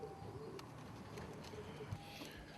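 Marble starling domestic show pigeons coo softly in a loft, low gentle murmuring calls with a few faint chirps and rustles nearby, and no one speaking.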